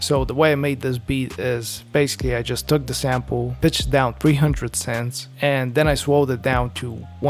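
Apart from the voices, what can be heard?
None of the usual background noises is heard.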